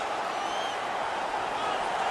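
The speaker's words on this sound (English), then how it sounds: "The home crowd is ecstatic. They're making all kinds of noise." A home crowd roars after a fight in a video game, a dense, steady wall of cheering and noise that holds at a constant loud level throughout.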